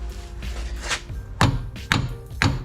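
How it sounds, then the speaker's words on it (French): Three dull, solid taps of a rubber mallet on a car's front wheel bearing assembly, spaced about half a second apart, over a steady low background rumble. "Marteau caoutchouc hein."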